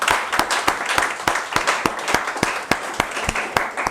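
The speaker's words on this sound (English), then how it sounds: "I will request everybody to please clap for his father and his mother." A small audience claps at a hospital polio testimony event, sharp distinct hand claps in a fairly regular rhythm, close and loud, with no one talking over them.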